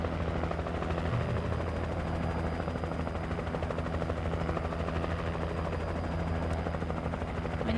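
Helicopter in the Alan Wake video game, a steady, dense rotor and engine drone that fills the whole stretch at an even level, with no voices over it.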